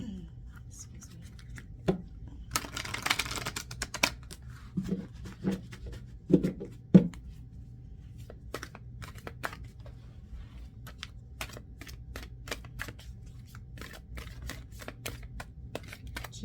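Quiet tarot cards being shuffled by hand: soft rustling riffles in a brief burst, then sparse papery taps and flicks scattered across a silent room, close but faint.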